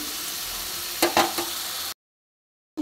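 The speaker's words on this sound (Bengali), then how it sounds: "এবার মশলাটাও প্রায় ভাজা হয়ে এসছে।" Spice paste of onion and tomato masala sizzles steadily as it fries in a pan, a constant close hiss with a few louder stirring scrapes, then cutting abruptly to silence before resuming.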